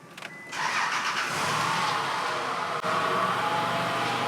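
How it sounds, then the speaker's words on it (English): A car with a misfire and fuel-smell fault cranks briefly and fires up, then settles into a steady, fairly loud idle that holds without other sounds. "We're gonna start up the car first."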